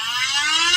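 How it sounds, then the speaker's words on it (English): A Red Cross emergency app sounds a tornado warning alert, a sharp, steady electronic tone that rings loud and close for under a second. "that is the Red Cross emergency app going off"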